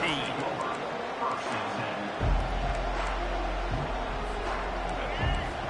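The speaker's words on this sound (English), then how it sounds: "This crowd bringing an ear-splitting welcome to their visitors" Loud stadium crowd roaring at an American football game, a continuous dense wash of cheering and hubbub that swells steadily with no clear break.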